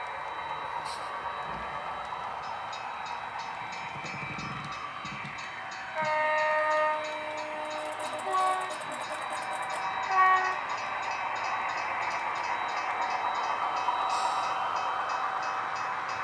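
An HO-scale model of a TransPennine Express passenger train runs with a steady mechanical hum, sounding several short electronic horn toots along the way.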